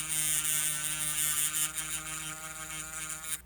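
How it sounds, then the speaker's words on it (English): A small rotary grinding tool whines steadily as it grinds away part of a fan's circuit board to expose a solder pad, a loud continuous buzzing drone close up with no talking. "we're going to grind away some of this so we can expose a little bit more pad"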